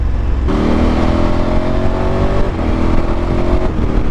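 A remapped 2021/22 KTM 1290 Super Adventure S motorcycle accelerating in rally mode, its engine note rising steadily in two long pulls with a brief lift between, loud and close with no talking.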